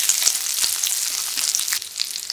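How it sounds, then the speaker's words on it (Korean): Bacon fries in a pan over medium-low heat with butter, producing a dense, continuous crackling sizzle with scattered sharp pops and no voices. "베이컨을 넣고 노릇노릇 맛있는 색깔이 날 때까지 볶아주세요"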